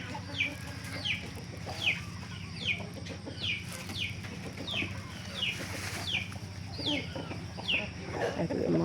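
Chickens on a farm in Cagayan Valley cluck in a rhythmic series of short, bright calls repeating about every half second, moderately close over a low background hum and rustle.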